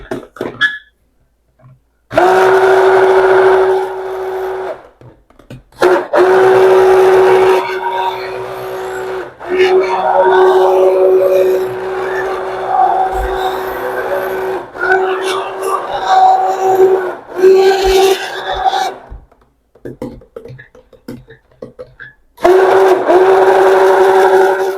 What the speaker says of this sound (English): All right, now we're going to give it a mix.